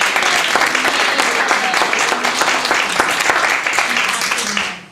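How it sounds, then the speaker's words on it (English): Audience at an evening school board meeting giving a round of applause, steady close clapping from many people with some scattered voices, tapering off at the end. "let's give her a round of applause"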